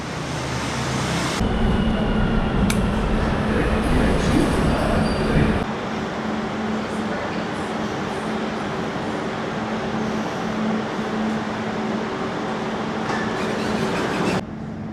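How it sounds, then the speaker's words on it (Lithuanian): Barcelona metro train running steadily, a loud continuous rumble of wheels and car noise with a rougher, heavier stretch early on and a constant drone thereafter, no voices. "bet įdomu su metro"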